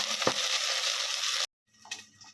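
Spinach frying and being stirred in a pan for palak paneer curry gives a dense hiss with a quick scrape, cutting off abruptly before a softer burst of stirring returns.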